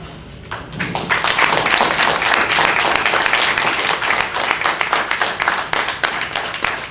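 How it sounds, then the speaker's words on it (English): Sustained applause from a crowd at a graduation ceremony, dense and steady clapping that swells quickly and holds for several seconds before thinning slightly. "Give them a round of applause"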